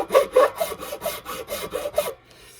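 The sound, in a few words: filing down a guitar nut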